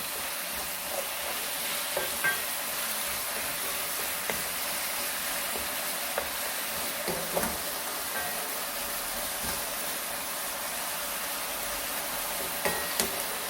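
Thin-sliced pork bulgogi stir-fried with vegetables in a hot pan, a continuous hissing sizzle with occasional soft ticks and taps of a utensil, steady and moderately close.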